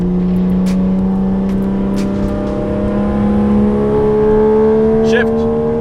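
A 1JZ engine in a Toyota Soarer revs hard on a dyno, a loud steady roar climbing in pitch through the gears, with voices talking faintly over it.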